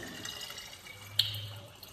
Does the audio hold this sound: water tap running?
yes